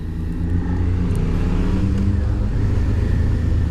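A Suzuki SV650 motorcycle's engine hums with a loud, steady low rumble during a ride. It rises slightly as the revs climb, with no voices over it.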